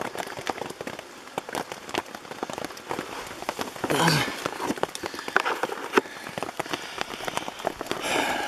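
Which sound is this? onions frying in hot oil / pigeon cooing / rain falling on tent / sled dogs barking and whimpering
rain falling on tent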